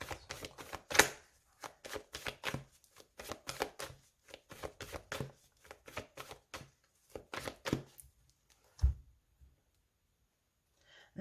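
A tarot deck is cut and shuffled for a reading, a series of close, quiet papery riffles and taps in short bursts separated by brief pauses.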